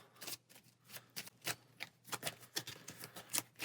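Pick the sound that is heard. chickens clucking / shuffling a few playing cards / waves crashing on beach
shuffling a few playing cards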